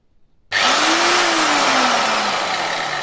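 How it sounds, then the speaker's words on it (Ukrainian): A Bosch 850 angle grinder starts abruptly after a short silence, its motor whine climbing to full speed and holding, a loud and steady close-range buzz. "Який старт цієї болгарки."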